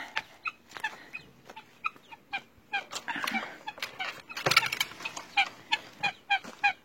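Chickens and guinea fowl calling in short, repeated bursts, clucks and honking cries overlapping close by, with no voices.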